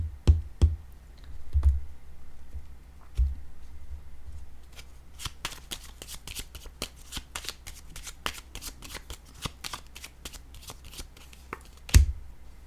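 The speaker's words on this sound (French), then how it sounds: "Je vais déposer une petite carte ici." A small card is handled and set down on a table, making soft papery flicks and light taps. The bursts are close and irregular, with a quick flurry in the middle and a sharper tap near the end, and no talk.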